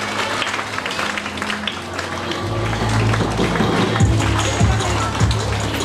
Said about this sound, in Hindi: ताली जोरदार लगाएं।